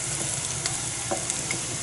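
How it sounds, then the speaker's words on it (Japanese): Steady sizzling and frying of pork in a pot for Filipino mongo, with occasional stirring scrapes and clinks, continuous and fairly close with no talking. "モンゴーを鍋にかけて、今の豚肉を、中に投入します。"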